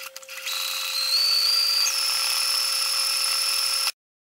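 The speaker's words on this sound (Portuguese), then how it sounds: "eu vou fazer um caseado bem aqui, ó. Vou pegar aqui e vou costurar." Sewing machine stitching a buttonhole into fabric for a patchwork flower placemat, a steady continuous mechanical whir running for several seconds at close range, its pitch stepping up partway through, then stopping abruptly.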